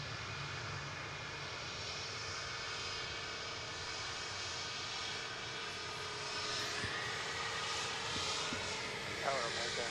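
A jet airliner at DFW airport during plane spotting: a steady, distant engine roar holds throughout and swells slightly near the end, with faint radio chatter in the background.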